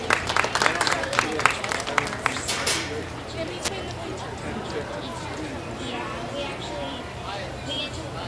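A livestock show crowd claps for a heifer, a short burst of many hands that quickly thins out, leaving a busy arena murmur with a voice speaking faintly in the background.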